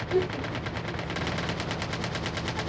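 Rapid automatic gunfire in the mobile battle royale game Call of Duty Mobile, a fast, even burst of shots running through the whole stretch at moderate loudness with no talking.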